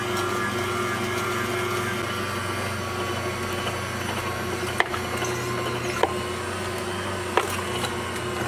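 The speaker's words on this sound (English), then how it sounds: "you are going to probably hear our inverter fan running in the background" An inverter fan hums steadily in the background of a home kitchen during late-season canning, a constant low drone with a few faint clicks and knocks over it and no voices.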